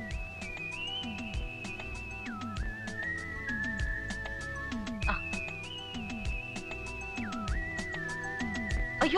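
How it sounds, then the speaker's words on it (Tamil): A man whistles in long sustained tones that step between pitches, steady and fairly close, over a busy background of rhythmic clicks and low thuds. "ஒரு ஐயா மேலிருந்து வந்து விசில் அடிச்சாரு"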